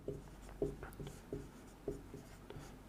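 Pen writing on paper during a math lesson, soft scratchy strokes in a regular rhythm, close and faint against low room hum.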